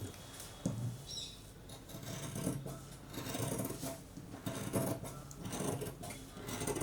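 Fabric being cut for half puff sleeves: irregular scraping snips and rustling cloth come in short bursts, fairly faint and close, with no talking.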